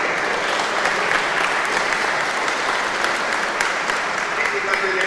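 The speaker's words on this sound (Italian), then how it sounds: "E facciamo un applauso, se si fa di voi." Audience applause at an Italian church festival celebrating goat braciola and percoca peaches in wine, a dense sustained clapping crowd filling the whole stretch, with a faint voice underneath.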